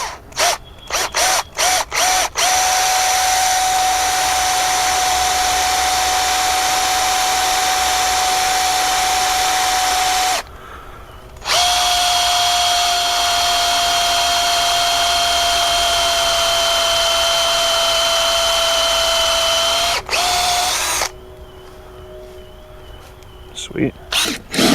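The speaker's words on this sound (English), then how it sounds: "I need to drill some holes in an old tree that we have outside" A power drill with a 1-inch bi-metal hole saw grinds steadily into an old hardwood tree outdoors after a few quick trigger bursts, pausing briefly twice before continuing, loud and close.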